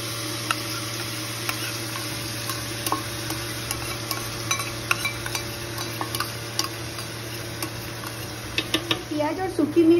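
Mutton masala and coriander powder are stirred into ginger garlic paste in a clay handi, giving soft repeated scrapes and light ticks against the pot over a steady background hum, with clattering building toward the end.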